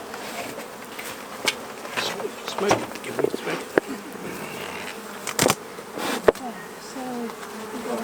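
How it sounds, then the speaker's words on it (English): Honey bees buzz densely in hives where a strong swarm has been merged with a weak colony, with sharp clicks and knocks of frame handling throughout and a person speaking briefly over the hum. "So we've got a lovely lot of bees actually in."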